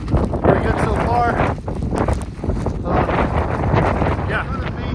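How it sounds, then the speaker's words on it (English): Blizzard wind on Mount Washington during a winter hike, roaring and buffeting the microphone in loud continuous gusts while people talk through it. "Windy and snowy, but very good so far."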